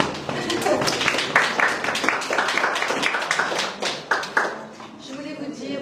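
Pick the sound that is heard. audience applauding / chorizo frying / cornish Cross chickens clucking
audience applauding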